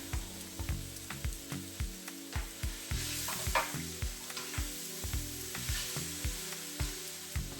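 Cabbage stir-fried for seafood pancit sotanghon with dried shiitake mushrooms, a steady loud sizzle broken by regular scraping strokes of a spatula against the pan, with no voices.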